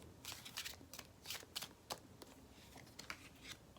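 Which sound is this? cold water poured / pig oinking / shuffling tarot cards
shuffling tarot cards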